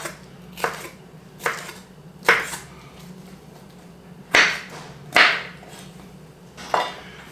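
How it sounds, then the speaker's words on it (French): Knife chopping an orange bell pepper into roughly one-centimetre strips on a board for chakchouka: about eight sharp, irregular cuts, a few of them louder thuds, close by with no talk. "Et je vais ensuite couper des lanières d'1 centimètre à peu près."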